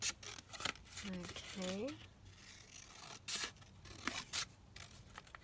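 Scissors trimming a sheet of 12 x 12 patterned paper for a paper pouch, giving a run of close, crisp snips and slicing rasps; a voice speaks briefly in between.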